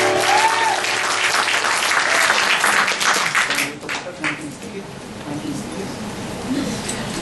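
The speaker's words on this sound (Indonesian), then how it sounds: "Haleluya, tepuk tangan bagi Allah." A church congregation claps in praise to God during a sermon, giving loud, full applause with voices calling out among it, then easing into softer clapping and murmuring.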